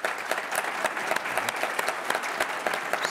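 An audience at a cyber security talk applauds, a dense, steady patter of many hands clapping at moderate distance with no voices over it.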